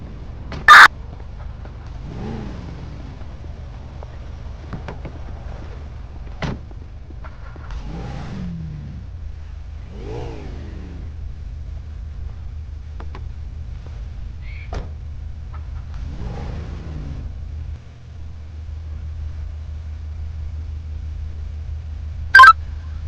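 Police escort cars pull away one after another, their engines swelling and revving in repeated bursts over a steady low drone, with a few sharp clicks at the start and end and no talking.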